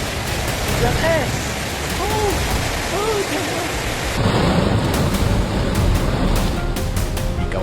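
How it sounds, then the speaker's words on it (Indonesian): Hail and heavy rain pound house roofs and vehicles during a storm in Bandung, a dense steady clatter with low rumbles, while a voice speaks over it. "Suara butiran es yang menghantam atap rumah dan kendaraan menambah ketegangan suasana."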